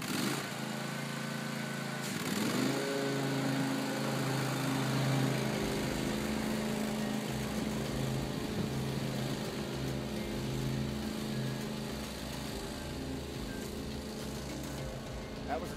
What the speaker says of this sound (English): We're going to start the engine, we're going to turn the blades on,